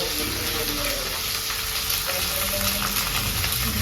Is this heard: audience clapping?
no